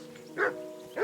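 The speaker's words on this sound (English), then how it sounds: "Henry, call that dog to heel." A dog in Kingdom Come: Deliverance 2 gives two quick barks about half a second apart over a soft, steady hum of background music.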